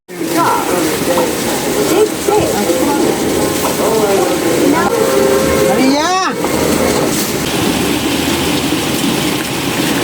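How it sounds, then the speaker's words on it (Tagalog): Heavy rain pours loudly and steadily while people talk over it, with a brief creaking, rattling noise midway through. "Lakas ng ulan, oh."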